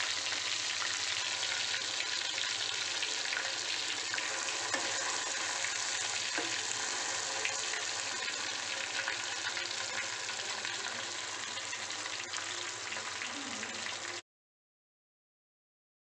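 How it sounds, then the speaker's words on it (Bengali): Potatoes deep frying in hot oil give a steady, even sizzle with a fine bubbling hiss that runs unbroken for about fourteen seconds, then stops dead. "তো এগুলো এখন ডিপ ফ্রাই হচ্ছে"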